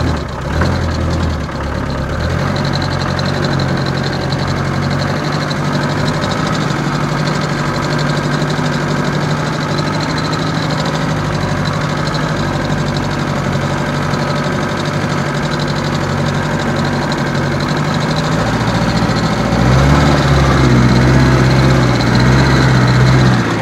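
A Unimog 411 engine runs steadily in snowy terrain, a loud, rough diesel rumble that holds constant for a long stretch, then deepens and strengthens slightly near the end as revs rise.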